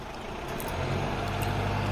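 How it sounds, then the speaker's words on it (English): A 4x4 engine revving up before an off-camber hill climb, a loud broad roar building steadily over two seconds, close and continuous with no talk. "So there's the revs up."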